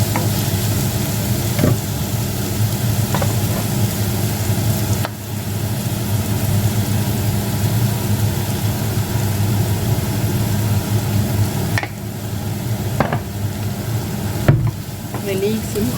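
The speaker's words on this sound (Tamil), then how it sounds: "இந்த லீக்ஸும் கொஞ்சம் வதங்கணும். பச்சை வாசம் போகும் வரையும் வதங்க விடுவோம்." Leeks sautéing in a pan for a Jaffna-style yogurt sothi, a steady close sizzle with occasional scrapes and clicks of stirring, no talk.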